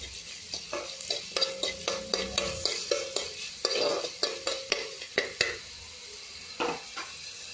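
Carrot, onion and green chilli frying in a little oil, with a soft sizzle under repeated sharp scrapes and knocks of a spoon stirring in the pan, close and rhythmic, no speech.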